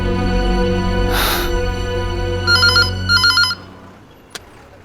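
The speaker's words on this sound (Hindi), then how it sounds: "कम ऑन सोनाक्षी, अब तुम मेरा फोन भी नहीं उठाओगी?" A mobile phone rings in bursts of electronic tones over a loud hum that then cuts out, followed by a single sharp click.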